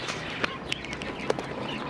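Scattered short chirps and tweets from small birds in a home aviary rise over a steady background hiss, with a few sharper calls standing out at irregular moments and no talking.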